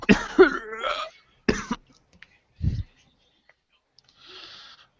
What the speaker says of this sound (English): She'll cough.